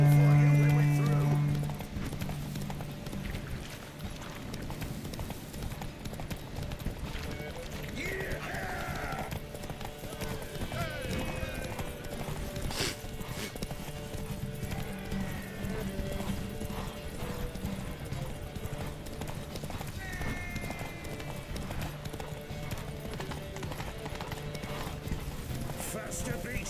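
Horse hooves clip-clop at a gallop in The Witcher 3: Wild Hunt, steady rhythmic beats throughout with occasional neighs, under game music and a rider's spoken lines.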